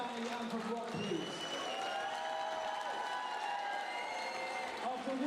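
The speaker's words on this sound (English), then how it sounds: "Let's have a massive round of applause for Danny and for Rob, please." Crowd applause and cheering at an amateur boxing event, a steady broad wash of clapping lasting the whole stretch with a voice speaking over it near the start.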